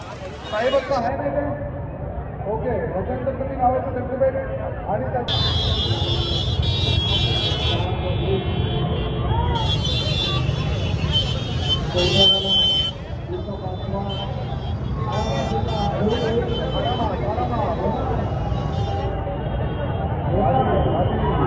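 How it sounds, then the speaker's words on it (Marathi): Busy road traffic during the Kalyan Dahi Handi festival crowd, with a steady dense rumble of vehicles, occasional horn-like tones and a constant crowd murmur. "ती बघू शकता फुल ट्रॅफिक पण आहे आणि दहीहंडीची पण गर्दी आहे काय"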